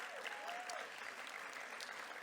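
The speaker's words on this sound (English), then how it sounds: "Please give Dr. Lisette Garcia an applause." An audience at a corporate diversity and inclusion event applauds a speaker, steady mid-distance clapping from many hands that keeps an even level throughout, with a faint voice briefly audible early on.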